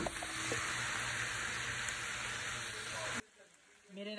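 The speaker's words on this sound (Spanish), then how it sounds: "Y yo aquí también estoy friendo unos chilitos para mi esposo." Small chili peppers fry in a pan for a home batch of chicken fajitas, giving a dense, steady sizzling hiss up close that cuts off abruptly near the end, leaving quieter kitchen sounds.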